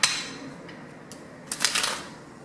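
Tarot cards being shuffled by hand, a quiet riffle at the start and a brighter flurry of crisp card snaps near the end, close and soft in an otherwise quiet room.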